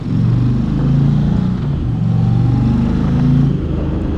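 A heavy motorcycle's engine is revved steadily for about four seconds, a loud, close, throbbing low rumble that rises and falls slightly without any talk.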